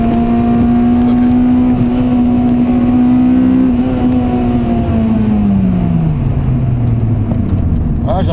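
A Honda Civic EP3 Type R's naturally aspirated 2-litre VTEC engine, heard from inside the car, drones loudly at a steady pitch, then the note drops as the revs fall away toward the end.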